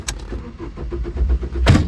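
A tractor engine starts up on a farm beside a loaded trolley, with a short loud burst, an uneven rhythmic churning and a second loud surge near the end.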